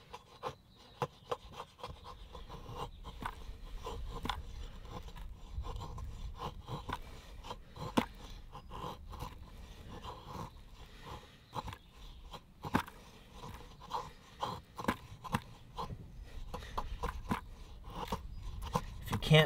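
A knife blade scraping thin curls off fatwood makes quiet, close, repeated short rasping strokes in an irregular rhythm with small pauses between them.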